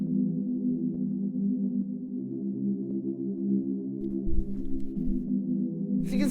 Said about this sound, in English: The first sound we have is the pad,